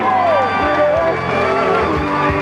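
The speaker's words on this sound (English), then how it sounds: "warm round of applause" A wedding reception crowd cheers and whoops for a bridesmaid and groomsman entering, a dense, steady wash of voices with music running underneath.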